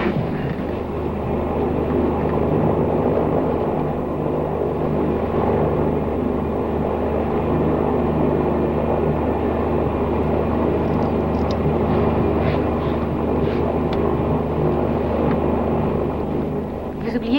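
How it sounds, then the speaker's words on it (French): Steady broadband drone of an airliner cabin during descent toward landing, a constant engine and airflow rumble filling the whole stretch without breaks. "Monsieur Barrett, voulez-vous attacher votre ceinture, s'il vous plaît? Nous allons atterrir"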